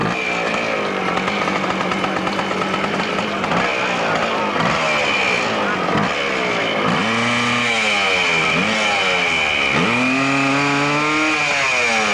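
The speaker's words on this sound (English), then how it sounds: "Running an old air-cooled RM 250 Suzuki." An old air-cooled Suzuki RM 250 motorcycle at a hillclimb, its engine revving hard and rising in pitch through repeated throttle bursts, loud and close over a noisy outdoor crowd.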